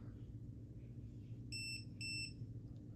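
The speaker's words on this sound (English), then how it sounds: "Beeps twice to turn it off." Two short, high-pitched electronic beeps in quick succession over a faint low hum, a Klein Tools dual-range non-contact voltage tester switching off.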